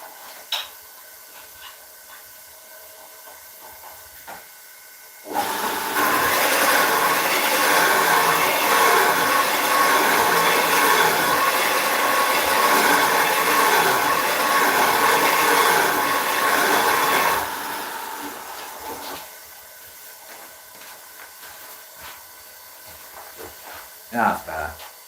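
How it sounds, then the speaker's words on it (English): A bench grinder sharpens a woodturning bowl gouge with a loud, steady hissing grind that lasts about twelve seconds and then tapers off, with quieter workshop noise before and after. "I'm just going to sharpen my bowl gouge."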